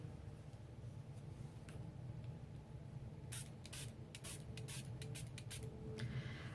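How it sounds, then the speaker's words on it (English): A small Stampin' Spritzer mists water onto a watercolor paper craft piece, giving a run of short, soft, close hissing sprays in quick bursts over a quiet room background. "and then I'm going to spritz it again."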